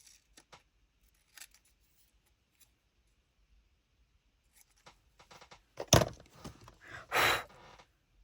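Scissors cutting out paper for a junk journal: scattered quiet snips and handling noises, then a few louder, closer cuts and a rustling swish near the end, with no talk.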